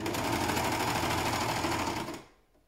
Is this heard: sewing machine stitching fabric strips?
yes